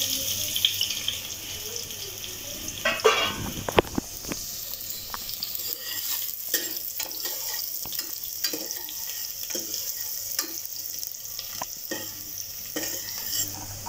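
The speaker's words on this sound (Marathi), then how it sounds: "थोडा फोडणी करता कांदा घालूया।" Chopped onion goes into hot spiced oil for a Malvani-style tempering over a low flame. A close, continuous sizzle runs alongside scraping stirs and a few sharp clatters from the utensil.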